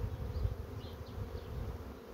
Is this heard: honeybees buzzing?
yes